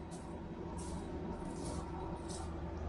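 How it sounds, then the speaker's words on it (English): An RV air conditioner powered by a Ford F-150 runs with a steady, broadband hum and whoosh at a constant level, quiet but continuous throughout with no other sounds. "What you're hearing is the AC running"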